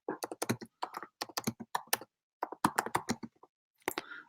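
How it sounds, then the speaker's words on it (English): Fingers type on a computer keyboard in quick, irregular bursts of soft clicks with short pauses between runs, fairly quiet and close, with no talking. "I'm going to type this in."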